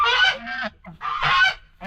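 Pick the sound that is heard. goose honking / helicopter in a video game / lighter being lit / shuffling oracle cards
goose honking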